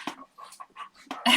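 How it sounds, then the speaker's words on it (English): Puppies give short, high yaps and whimpers close by, a quick burst of several yelps and whines ending in a louder, sharper cry. "can hear the puppies"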